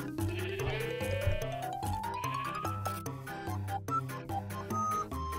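Sheep in the video game Minecraft bleat repeatedly while being sheared, several short wavering cries over game sounds and a rising tone, at moderate volume.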